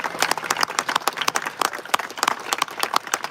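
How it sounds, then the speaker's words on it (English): A smaller group at a Winnipeg Sea Bears basketball news conference claps for the players, distinct individual hand claps forming a brisk, uneven patter that stays close and moderately loud. "To all the players who are here with us today, let's give them a great round of applause"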